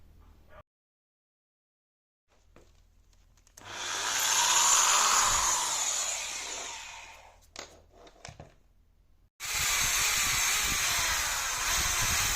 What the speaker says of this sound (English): first we're drilling a tiny hole, a pilot hole, so we can drill it through more easily